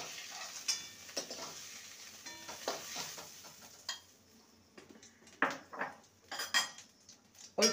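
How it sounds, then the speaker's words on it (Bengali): Taro pieces fry in a pan with a soft hiss, while a utensil clinks and scrapes against the pan in irregular stirring bursts, close and fairly quiet, with no talking. "কচুগুলোকে ভালো করে ভেজে নেব"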